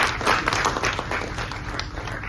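Audience applause at a theatre festival fills the whole stretch, with dense, steady clapping from a crowd that stays fairly loud and even throughout and holds no speech.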